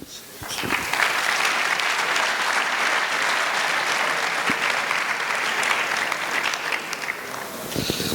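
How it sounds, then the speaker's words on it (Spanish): Applause from a conference audience welcoming a speaker named Chiquillo, a dense, steady wash of many hands clapping near and loud for about eight seconds, with faint voices underneath. "un aplauso para Chiquillo"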